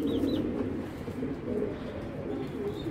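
Racing pigeons, a large show pair, coo softly amid a steady murmur of loft noise, with a few higher chirps breaking through.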